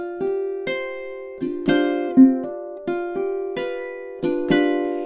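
Fingerstyle ukulele passage of measures 5 and 6 from a spooky-sounding song, with plucked notes and small chord shapes at an even pulse, each attack bright and clear and decaying between strikes, with no voices.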